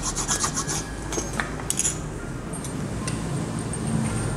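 Hand file rasps on a newly fitted motorcycle part during a handle cone, shock absorber and carburetor repair, a quick burst of close rubbing strokes easing into quieter intermittent scraping.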